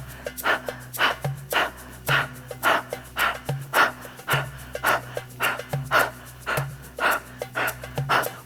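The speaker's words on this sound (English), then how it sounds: "The inhale's passive, you're just panting out the mouth." Rapid rhythmic panting breaths pushed out through the mouth during a kundalini yoga exercise for anger, with the torso twisting, sounding in a steady even pulse of about two breaths per second, close and clear over soft background music.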